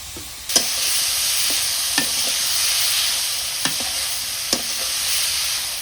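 Garlic paste sizzles steadily in a hot pan, with several distinct clacks as a utensil stirs and scrapes it, close up and with no voices.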